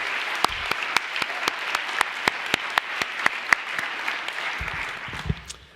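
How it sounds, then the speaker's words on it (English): An audience at a high school senior salute evening claps for the school counselors, with scattered, distinct hand claps ringing out over a softer bed of applause before it tapers off. "Maybe we can give them a round of applause."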